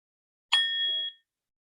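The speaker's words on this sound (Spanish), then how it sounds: "toda la parte de la musicoterapia, que tiene que ver con todo este uso de sonidos, desde un cuenco tibetano" A Tibetan singing bowl struck once, with a bright metallic onset that settles into a clear sustained ringing tone lasting about half a second before cutting off, alone and fairly close.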